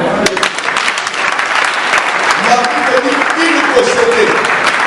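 A congregation at a church service breaks into loud, sustained applause and cheering, dense clapping filling the room with voices calling out over it throughout.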